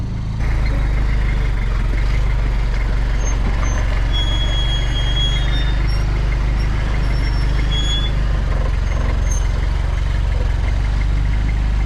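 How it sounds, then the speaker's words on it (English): A custom Toyota Hilux rock crawler on 40-inch tyres drives over rocks, its engine holding a loud, steady low rumble close by with faint high whines and squeaks above it and no speech. "let me go and drive on a couple of rocks, see how they behave"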